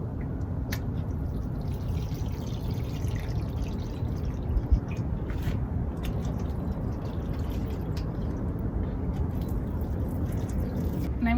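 Water running and trickling out of the bottom of pots of saturated soil holding seed-grown fruit trees, a steady broadband wash with scattered drips, continuous throughout at moderate level.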